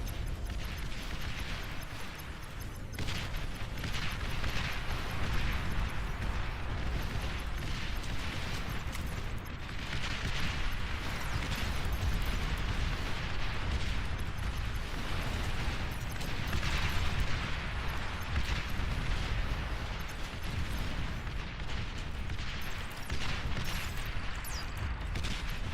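Artillery fire in a strategy video game, a dense continuous barrage of booms and rumbling explosions filling the whole stretch at steady loudness, with no talk over it.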